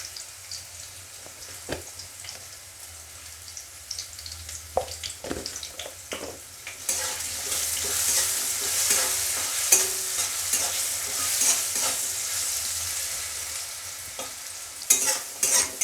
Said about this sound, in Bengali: আমি আলুটাকে সুন্দর লাল লাল করে ভেজে নেব